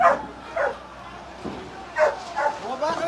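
Several dogs bark and yip in short separate bursts, with a whimpering tone, at moderate distance amid a tense household scene; a few voices are present.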